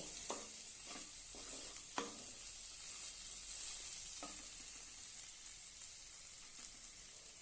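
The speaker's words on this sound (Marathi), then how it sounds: "आणि छानपैकी परतून घेऊया" Onion and papad chutney stirred in a pan, a faint continuous sizzle with a few soft scraping stirs early on, then steady frying alone, no talking.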